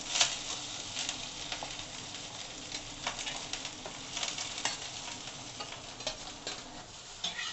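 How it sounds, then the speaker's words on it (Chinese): Steamed white rice stir-fried with dried scallops in a wok, with soft scraping, stirring and light sizzling in irregular bursts, close and fairly quiet, with no talking. "將已經蒸過的白飯落去炒"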